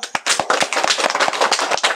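Several people clapping their hands together in a quick, lively burst of sharp claps, close and loud throughout.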